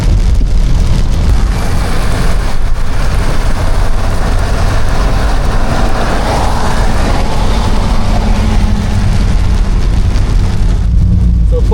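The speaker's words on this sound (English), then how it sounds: "Look at that rain." Heavy rain beats steadily on a car during a downpour in Guam, making a loud, continuous roar of drumming drops with no let-up and no talking.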